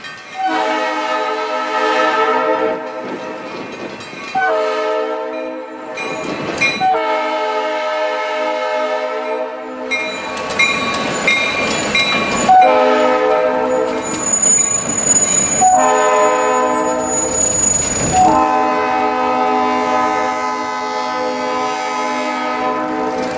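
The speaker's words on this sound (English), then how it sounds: "we catch them southbound at Liberty Street with the same power and a pair of covered hoppers." An Ann Arbor Railroad freight train hauling a pair of covered hoppers passes by, its horn blasting in several long, loud sounds over rumbling wheels and engine noise, with brief high squeals, heard close and without any speech.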